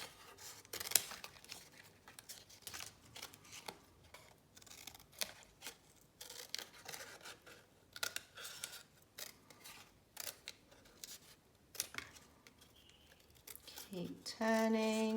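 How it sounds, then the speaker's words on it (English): Scissors snipping through paper to cut out a pattern for a paper block print, a run of quiet close crisp cuts with paper rustling as the sheet is turned. "I need to keep turning my paper as I cut."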